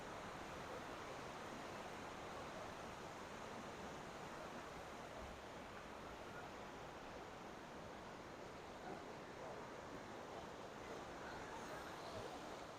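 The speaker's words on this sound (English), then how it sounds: "So this is Glenariff Waterfalls. It's in full flow." Glenariff waterfall in Glenariff Forest Park, in full flow after heavy rain, gives a steady, dense roar of rushing water that stays constant and unbroken throughout, with no talking.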